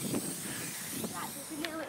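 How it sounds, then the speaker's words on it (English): Varnish sprayed from a can onto model Spitfire wings outdoors, a soft steady hiss in short bursts, close, with voices talking over it. "that's excellent spraying. That's let the wind do it."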